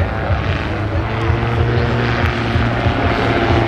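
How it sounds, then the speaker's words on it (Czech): A remote-controlled model helicopter hovers and turns on the spot outdoors, its rotor and engine making a loud, steady buzzing drone that stays constant throughout. "Teď si vlastně zavisel, je to s vrtulníkem."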